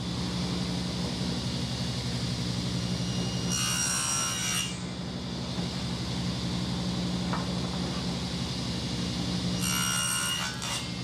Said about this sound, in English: So what I'm going to do is just cut a little rabbet at the end of this